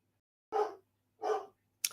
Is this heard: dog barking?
yes